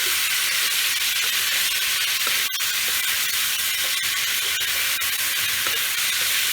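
Pumpkin being sautéed with a spice paste in a pan, a dense steady hiss of frying with occasional faint clicks, close and fairly loud, no talking.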